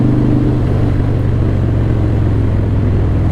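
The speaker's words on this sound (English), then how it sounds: "Oh boy, does that sound good when you open that throttle up." A Harley CVO Pro Street Breakout motorcycle engine holds a loud, steady, close rumble with its throttle held open, a low continuous drone with no talk over it.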